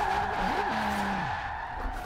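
Tires squealing as a Nissan R32 drifts sideways in Forza Horizon 4, a loud sustained skid over a steady engine drone with a rising and falling pitch.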